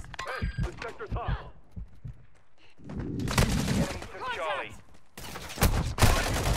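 Loud bursts of automatic gunfire in the shooter game Call of Duty: Modern Warfare II, sounding in sustained volleys over several seconds with a player's voice talking between and over the shots.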